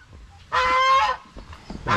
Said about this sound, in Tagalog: Marami tayong pabo dito na naglimlim.